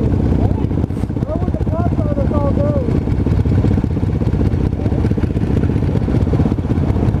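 A dirt bike engine idles out in cold weather with a steady low rumble that stays close and constant. A person talks over it briefly.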